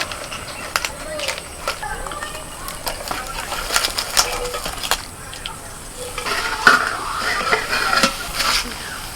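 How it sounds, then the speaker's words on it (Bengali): Quail and turkey eggs sizzling in a frying pan as they are flipped, a soft steady fry with scattered scraping and tapping of a utensil, close by with someone talking over it. "এইখানটা দেখো আমি কিভাবে ডিমটা উল্টাচ্ছি"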